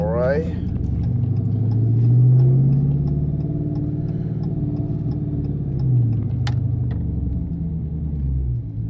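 A cammed 5.7-litre 2016 Dodge Challenger R/T with a straight-pipe exhaust and stage 2 comp cam rumbles loudly from the cabin while driving, a deep lopey idle swelling briefly and settling back with a couple of faint clicks over it.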